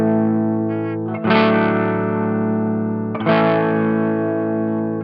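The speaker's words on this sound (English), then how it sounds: "Let's just take a listen to what the amp sounds like dry" An electric guitar played straight into an amp with no pedal, giving two loud strummed chords that ring out and sustain, the second struck about two seconds after the first.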